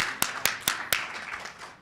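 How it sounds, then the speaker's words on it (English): Four slow, evenly spaced claps ring out alone at a press club event, sharp and fairly close, with a faint room tail after each. "let's applaud them, yes"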